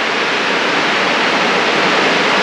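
Heavy rain pouring down outside a sturdy timber-roofed house, a dense, loud, unbroken hiss that holds steady throughout with no voices.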